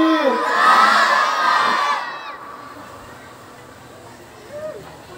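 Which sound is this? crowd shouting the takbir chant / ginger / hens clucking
crowd shouting the takbir chant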